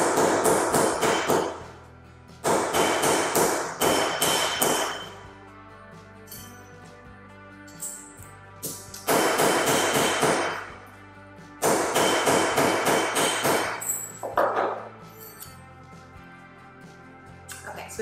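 Bursts of sharp, rapid tapping of a rawhide mallet flattening metal on a steel plate, several clusters separated by brief pauses, close and fairly loud.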